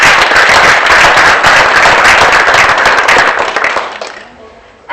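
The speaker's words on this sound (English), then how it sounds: "Let's give him a round of applause" Applause at a Schneider Electric low-tech innovation prize-giving ceremony, a dense, loud burst of clapping from a crowd that carries on steadily and then fades out toward the end.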